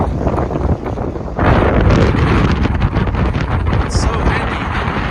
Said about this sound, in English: The wind is just whistling, howling.